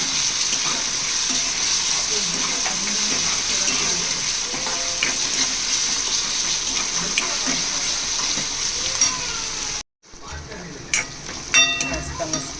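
Crushed green chili, garlic and ginger sizzle and fry steadily in a pan for a prawn masala, with soft stirring scrapes throughout, a brief drop-out near the end before the frying resumes close by.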